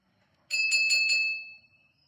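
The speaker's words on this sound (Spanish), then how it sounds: "Escucho una campana misteriosa." A mysterious bell rings out of silence during a blackout: four quick, bright metallic strikes close by, followed by a thin lingering tone that fades away with no voices.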